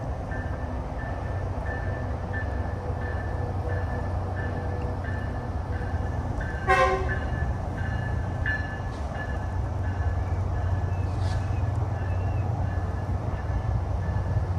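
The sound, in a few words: Tri-Rail commuter train arriving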